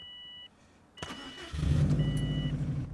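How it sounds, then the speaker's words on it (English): A car engine cranks and turns over, then settles into a steady idle; a couple of short electronic beeps sound before and during the start. "Let me turn the car on real quick"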